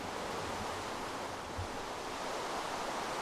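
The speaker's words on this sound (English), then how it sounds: "I think it's raining." Rain falls in the Minecraft video game as a steady, even hiss of water, moderately loud and unbroken from start to finish with no talking.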